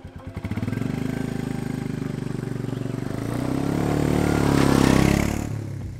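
Royal Enfield Meteor 350 motorcycle on the move, its mid-pitched engine droning steadily and swelling as it revs up toward the end, with wind and road noise blended in, close and fairly loud.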